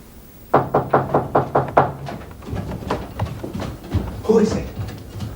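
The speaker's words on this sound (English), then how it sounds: "Who knocks at this hour?" Seven sharp knocks on a wooden door at night in a medieval abbey-town setting, evenly spaced and close, followed by a voice calling out.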